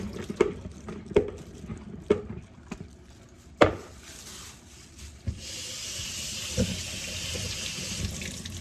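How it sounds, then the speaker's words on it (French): Chili peppers sit in a colander as water runs over them, first a few splashy knocks and clatters, then a steady hiss of flowing tap water in the second half. "Je vais laver et laisser dans le passoire. L'eau va couler toute seule"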